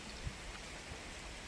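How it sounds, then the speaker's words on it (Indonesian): Heavy rain pours on the southern slope of Mount Merapi during extreme, windy weather, a steady, dense hiss of falling water that runs unbroken and close throughout. "hujan deras masih mengguyur kawasan sisi selatan"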